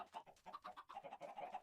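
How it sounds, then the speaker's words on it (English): Chickens cluck in a Minecraft world, a quick run of short, rhythmic clucks and squawks close by, with no talking. "you don't need to hear all these chickens"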